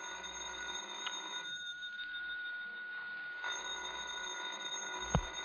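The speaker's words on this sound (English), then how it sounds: "Well, ain't you gonna answer the phone?" An old-fashioned telephone rings in an interior scene from the film Murder in G Flat, two ring bursts separated by a pause, over a faint hiss with no speech.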